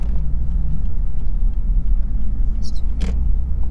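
A Lexus GS 300 drives at a relaxed pace, its engine giving a steady, close, low rumble from inside the cabin, with a brief voice and small clicks over it.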